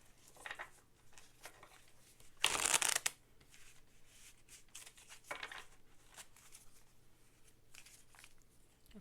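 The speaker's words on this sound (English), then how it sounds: "Terrible shuffling." Tarot cards being shuffled by hand during a card reading, a soft riffling burst with a louder sharp flurry near the middle and faint papery shuffles around it, close and quiet.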